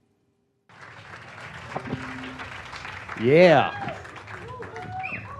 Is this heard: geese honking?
no